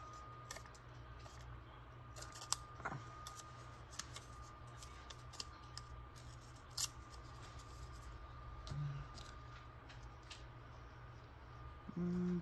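Scissors snip fabric being trimmed for a sewn window pocket, a quiet series of short crisp cuts with small handling clicks in a calm room.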